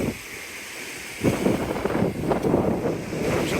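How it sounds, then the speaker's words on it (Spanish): Wind and breaking surf on Pamukkale beach on the Mediterranean at sunset, a steady broadband roar that swells after a quieter opening and keeps rushing on, close and fairly loud with no voices. "Estamos ahora en la playa de Pamukkale"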